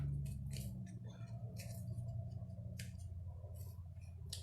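Scissors snipping through paper while a puppet shape is cut out, quiet close crisp cuts coming in short irregular bursts over a soft background hum.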